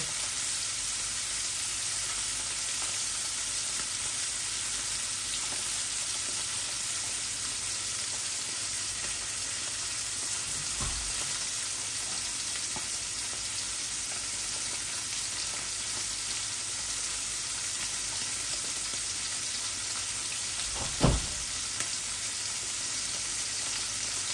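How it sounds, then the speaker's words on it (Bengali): Tilapia fish frying crisp in a pan, a steady, even sizzle of hot oil with one brief knock of a utensil against the pan near the end. "একটু কড়া করে ভাজতেছি, ভাজলে মজা লাগবে।"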